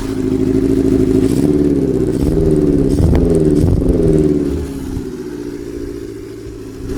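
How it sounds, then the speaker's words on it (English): Close, loud idle and light revving of a restored Kawasaki Z650B motorcycle engine with a Delcovic exhaust, baffle fitted, settling to a steadier, quieter idle after a few seconds, no talking. "I'm actually quite surprised how loud this Delcovic exhaust system is, even though it's got the baffle in."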